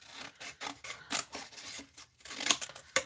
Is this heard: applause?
no